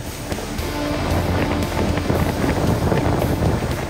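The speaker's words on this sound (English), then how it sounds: "Waves are coming in every direction." Steady roaring storm wind buffets the microphone while Indian Ocean waves churn and slosh continuously underneath, loud and close, with no voices.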